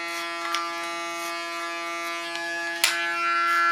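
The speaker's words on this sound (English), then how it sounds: "when you just comb with a clipper it's about 3 millimeters." An electric hair clipper buzzes steadily at close range while shaving a side-shave, its tone wavering as it moves across the head, with a few small clicks and bumps.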